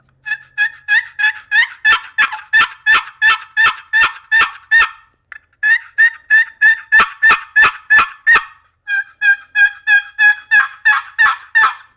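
Wooden turkey-hunting box call worked in a steady yelping cadence, loud sharp rasping notes in three runs separated by short pauses, no voices.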